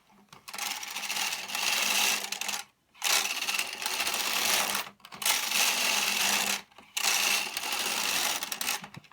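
A Brother Bond knitting machine knits rows of Fair Isle pattern in main colour, four loud close passes of carriage rasping and clattering, each about two seconds with short pauses between, with no talk.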